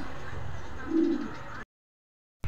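A pigeon gives a single soft, low coo close by against a background hum, before the sound cuts out.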